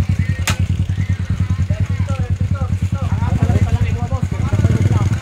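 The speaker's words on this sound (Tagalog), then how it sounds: "Sasakay kami ng tricycle." A motorcycle tricycle engine idles close by with a fast, steady low chugging pulse throughout, while people talk over it.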